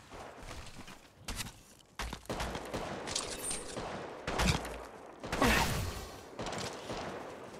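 Gunfire in Apex Legends Mobile arrives in several sharp bursts and volleys, mixed with clatter and movement noises, loud and close through a busy battle.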